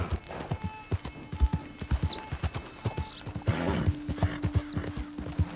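Steady clip-clop of horse hooves trotting at an even pace in the video game Red Dead Redemption 2, with faint ambient tones in the background and no talking.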